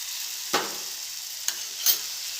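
Tomatoes with red chilli powder cook down in a pan for onion-tomato chutney, giving a steady soft sizzle with three sharp stirring scrapes spaced through it, no voices.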